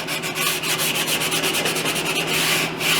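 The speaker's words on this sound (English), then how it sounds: "I use the 60 grit, but you can use 40, 100, it doesn't matter. And I just sand it at a 5-degree angle." Plywood edge banding is hand sanded with 60 grit sandpaper at a slight angle, giving a loud, close, rhythmic scratching of quick back-and-forth strokes that continues steadily without talk.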